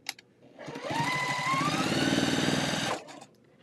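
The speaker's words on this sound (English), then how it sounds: "I'm gonna sew it like this already." A sewing machine stitches cotton quilt pieces in one steady, fast whirring run of about two seconds, rising to speed and stopping abruptly, close and alone.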